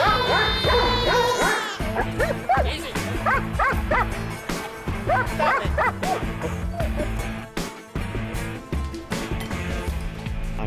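A Doberman dog gives a series of loud, close yips and whimpering barks in an uneven rhythm, with music playing underneath.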